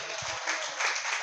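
A church congregation applauding: dense, steady clapping from many hands fills the short moment, loud and continuous.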